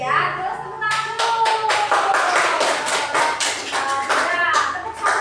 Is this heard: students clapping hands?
yes